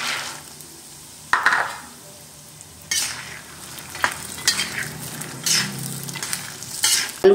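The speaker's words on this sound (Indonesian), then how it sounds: "Kalau sudah panas kita goreng kacangnya." Peanuts frying in a shallow pan of hot oil as part of making gado-gado, with steady sizzling and bursts of stirring and scraping from a utensil against the pan, close and fairly loud.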